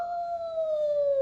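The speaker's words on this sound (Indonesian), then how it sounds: "Itu namanya serigala" Sustained wolf howl, a single long tone held steady and slowly falling in pitch, loud and close with no talk.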